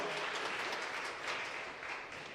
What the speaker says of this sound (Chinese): 我们再给他一个热烈的掌声鼓励